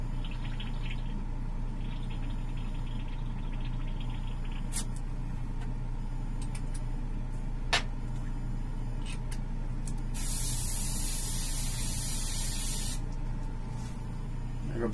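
An airbrush spraying orange paint onto a Batman model: a soft, continuous hiss over low background hum, with a brighter, stronger burst of spray for a couple of seconds near the end.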